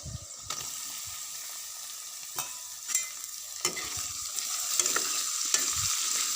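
Pieces of pigeon meat fry in a pan with fresh ginger, sizzling steadily while a utensil scrapes and stirs in occasional clinks and knocks.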